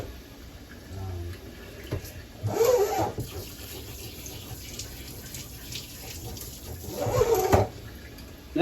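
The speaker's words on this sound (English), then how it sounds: "I'm gonna dump it in our soapy water" A plastic aquarium filter piece from a Fluval 207 is dropped into soapy water, giving two soft splashing bursts of sloshing water amid faint background noise.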